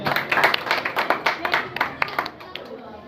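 A church congregation at a Friday prayer service claps loudly, a dense run of sharp hand claps filling the room for a few seconds.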